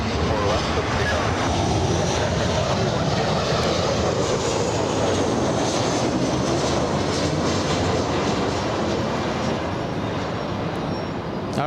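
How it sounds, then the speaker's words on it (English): A United Airlines Boeing 737 jet arriving at Los Angeles International Airport: a steady, broad engine roar and rushing noise fills the whole stretch, heard from the ground with faint voices underneath. "the arrival, we have a 737 United Air"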